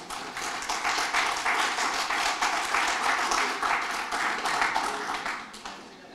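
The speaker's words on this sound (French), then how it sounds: "Donc, on les applaudit," An evening audience at a Quebec anniversary event for the M3I Supervision program breaks into dense, steady applause with some sharp individual claps, holding strong for about five seconds before tapering off.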